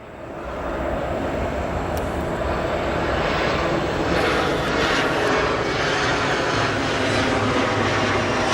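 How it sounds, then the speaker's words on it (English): A Republic Airways jet arrives at O'Hare airport, its engines producing a loud, steady, close roar that holds for the whole stretch with a faint whine on top. "This arrival here, Republic Airways Flight 3588 from Greenville,"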